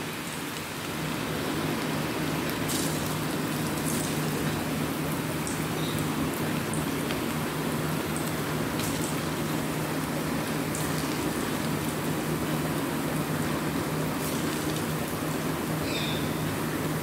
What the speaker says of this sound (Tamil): இந்த மாதிரி கொஞ்சம் கொஞ்சமாக போட்டு நல்லா ஃப்ரை பண்ணி எடுத்துக்கலாம்